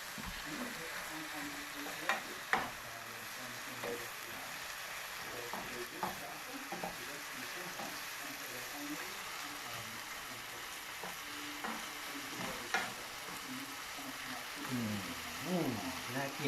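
Holy basil and vegetables stir-fried in a pan make a steady sizzle with scattered scraping clicks from stirring, moderately close, with a voice speaking faintly at times.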